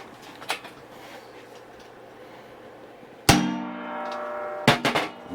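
Hammer striking thin-walled metal in a home workshop: after a quiet stretch, one sharp ringing clang that decays slowly, then a second strike followed by a few quicker, lighter knocks.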